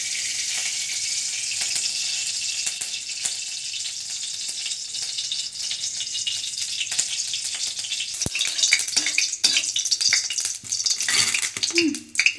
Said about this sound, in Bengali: এবার গ্যাসের উপরে একটা কড়াই বসিয়ে দিলাম, এতে আমি 2 টেবিল স্পুন ঘি দিয়ে দিলাম